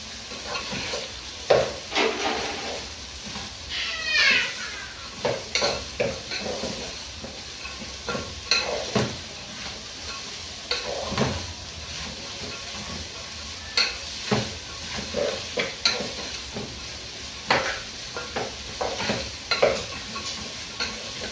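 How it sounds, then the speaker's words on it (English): Purple cabbage stirred and fried in a hot pan: continuous sizzle and steam hiss, broken by repeated loud scrapes and clatters of the utensil against the pan, with no talk. "You add in your purple cabbage and you stir very well."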